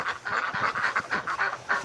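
Breeding ducks outside in a snowstorm, quacking in a rapid, repeated string of nasal calls close by, about a dozen honks in under two seconds with no talking.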